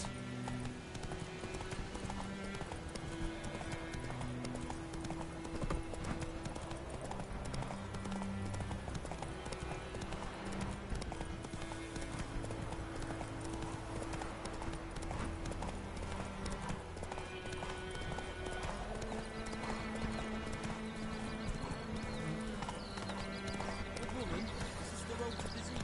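Roach the horse galloping and neighing in The Witcher video game, rapid continuous hoofbeats with whinnies under steady music and a talking voice.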